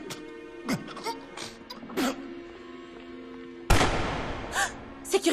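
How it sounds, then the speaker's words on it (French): A sudden sharp gunshot cracks in a tense telenovela scene, one loud broadband burst partway through amid scattered shorter pops and a sustained hum. "Il y a eu un autre coup de feu!"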